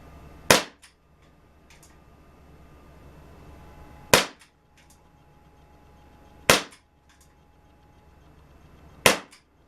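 A Dan Wesson 6-inch pellet revolver fires Crosman pellets at targets in four sharp, loud single cracks spaced a couple of seconds apart, each followed by a faint echo or impact tick against a quiet background.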